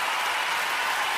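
An audience breaks into a short burst of applause to welcome Judge Denise Brown, a dense, even patter of clapping that is steady and fairly loud for about a second.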